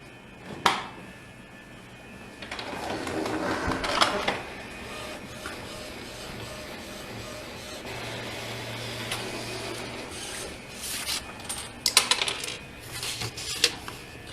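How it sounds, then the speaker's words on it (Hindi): An Epson EcoTank printer prints a tattoo stencil, its mechanism whirring and shuttling with clicks, clacks and sharp knocks at intervals, moderately close and alone without talking. "तो अगर हम लोग उसको प्रिंट कर रहे हैं तो"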